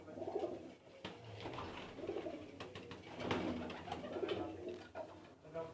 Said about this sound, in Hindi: माशाल्लाह जी, बहुत कदीमी कबूतर है इनके उस्ताद तारिक साहब के।